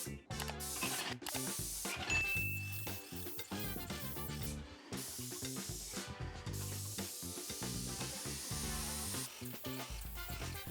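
An airless paint sprayer, a Control Pro 170, sprays house paint onto exterior walls, a continuous close hiss with ratcheting, mechanical clicks and rubbing bursts throughout, briefly broken by short pauses.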